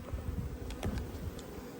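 Honey bees in an open hive colony make a steady, low, droning buzz that hums continuously throughout, with no voices.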